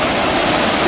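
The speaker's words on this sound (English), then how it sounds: "That was really thin, water coming through the rock." Water from the Ouzoud waterfall in Morocco's Atlas Mountains rushes through rock, a loud, steady broadband roar close by with no pauses.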